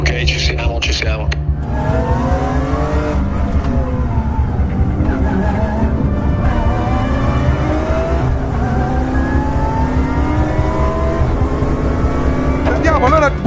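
GT4 race cars pull away at the start of a GT4 European Championship race, fanning out into the first corner: a loud, dense engine roar with rising revs that holds throughout, with voices underneath.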